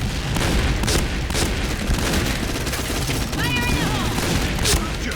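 Gunfire and grenade blasts in a video game come in rapid bursts and sharp cracks, loud and repeated throughout, with a voice talking over the shooting.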